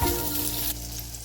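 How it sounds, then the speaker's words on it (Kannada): A South Indian rasam tempering of mustard seeds, curry leaves, tomato and cumin frying in hot oil, a close continuous sizzle with faint crackles alongside a steady low hum. "ಚೆನ್ನಾಗಿ ಫ್ರೈ ಮಾಡ್ಕೊಳ್ಳೋಣ"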